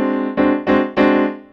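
A French augmented sixth chord sounds alone, its sustained harmonic tone re-struck three times in quick, even succession with no voices.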